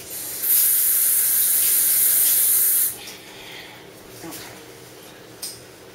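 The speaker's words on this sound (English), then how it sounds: "I'm going to rinse my hands" Tap water runs hard over hands at a kitchen sink for about two and a half seconds, a loud steady hiss that cuts off abruptly, followed by faint handling noises and a small knock.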